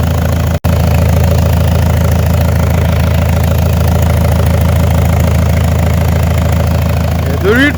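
An Opel Astra G 2.2 DTI diesel engine, leaking oil, runs away at high, steady revs with a hard, droning knock, cutting out briefly once, and a voice is heard at the end.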